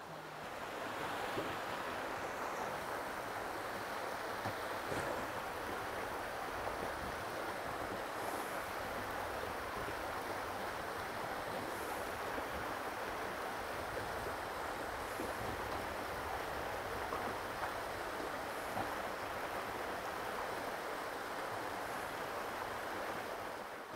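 Water flowing steadily amid redwoods on an off-grid farm, a constant broad rushing wash that stays even and unbroken throughout, with faint wind over it and no voices.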